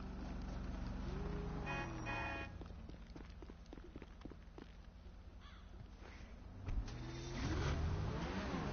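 A car in GTA 5 pulls away with rising engine revs, mid-pitched motor accelerating and growing louder toward the end, over quieter game ambience with caw-like bird calls.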